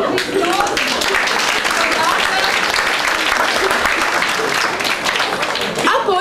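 Loud, sustained audience applause at a Romanian storytelling performance, a thick continuous crackle of many hands clapping close by, with a few voices calling out near the end.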